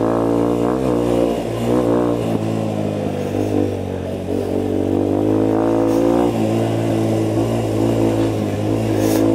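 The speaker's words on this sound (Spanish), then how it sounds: "¿Escuchan la moto como suena?" A Fratelli Xe 125 motorcycle engine runs close by on a dirt trail, rumbling steadily with occasional rises in revs, continuous throughout without any voices.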